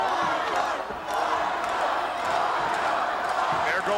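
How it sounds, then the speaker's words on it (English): Wrestling arena crowd on a WWF broadcast roars and shouts continuously, a dense loud wash of cheering and jeering voices with occasional sharper yells rising out of it. "There goes the crowd again."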